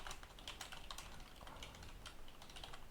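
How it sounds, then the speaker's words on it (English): Rapid typing on a computer keyboard, a dense quiet patter of key clicks with uneven rhythm and occasional heavier strokes, close and alone without talk. "if I start typing here stuff"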